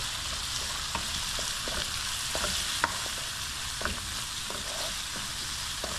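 Mung beans and tomato sizzle and crackle steadily in a hot pan over high heat while a utensil scrapes and stirs, with occasional sharp clinks against the metal.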